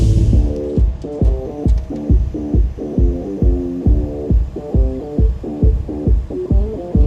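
A Big John 65-inch tree spade hydraulically lifting a tree plug out of the ground produces a loud, close, rhythmic throbbing hum that pulses about twice a second, with no talking.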